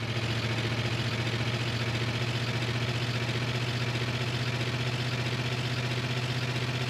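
A vehicle engine in GTA San Andreas runs steadily, a loud continuous droning hum with a constant low rumble and no break throughout.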